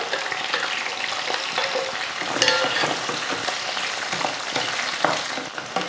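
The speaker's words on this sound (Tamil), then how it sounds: "வெண்டைக்காயும் இந்த வெங்காயத்து கூட சேர்த்து நல்லா வதக்கி விட்டுட்டு அரைச்சி வச்சுருக்க மசாலா சேர்த்துடலாம்" Okra sautés with onions and ground masala in a pan, giving a close, continuous frying sizzle broken by the repeated scrape and clatter of a spoon stirring, with no one speaking.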